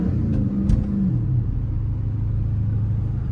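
Low, steady engine rumble from a 717-horsepower Dodge Hellcat cruising through city streets, with a brief rising rev near the start before it settles into a constant deep idle-like drone.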